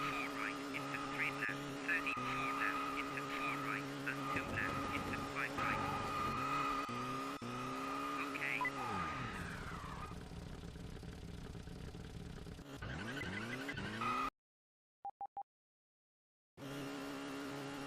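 Rally car engine in Colin McRae Rally 2.0 revving and shifting through gears with tyre skids, loud and continuous, then cutting to near silence with a few faint clicks before the engine noise returns.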